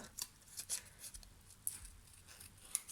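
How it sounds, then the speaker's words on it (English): Scissors fussy cut a small paper butterfly in a quick run of faint, crisp snips and paper rustles close by. "So if I just quickly fussy cut that"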